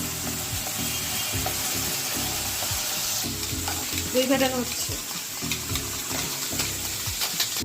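Onions frying in oil in a pan for a Bengali doi katla fish curry, a steady broad sizzle with scattered scraping and clinks from stirring, close and fairly loud throughout, with no talking.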